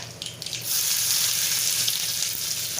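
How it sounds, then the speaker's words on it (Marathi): Onion sautéing in hot oil with cumin, asafoetida and mustard seeds for a jackfruit vegetable dish, a steady close sizzle that rises sharply after a brief start and stays loud and even. "कांदा थोडा परतून घ्यायचा जास्त नाही परतायचा"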